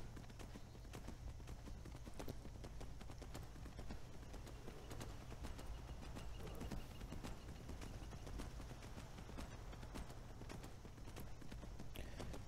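Steady clip-clop of horse hooves while riding a mount in the Skyrim video game, a continuous rhythmic trot at close range over a low steady hum, with no talk.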